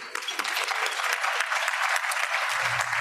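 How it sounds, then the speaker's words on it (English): Audience applause at a Rotary club meeting, a steady dense wash of many hands clapping at full strength, continuous for the whole stretch with a low murmur entering near the end. "So applause to all of them too."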